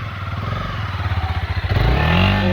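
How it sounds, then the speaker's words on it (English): Honda CB300R motorcycle engine idling with a steady pulsing throb, then revving up as the bike rides off, loud and close with no talk. "He literally just came and rode off with his bike."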